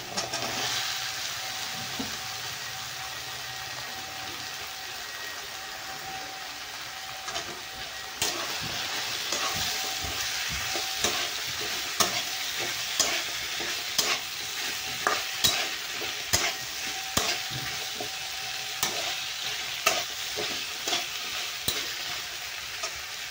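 Potatoes sautéed in roasted green-chili masala for a spicy potato curry, a steady pan sizzle running throughout with repeated sharp scraping stirs growing more frequent in the second half.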